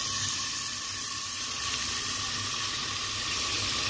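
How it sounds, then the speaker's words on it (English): A little water is splashed into a sizzling vegetable mixture in a pan for South Indian aaviyal, giving a steady, loud hiss of steam and frying that holds constant throughout. "to generate some steam, I add like a little bit of water"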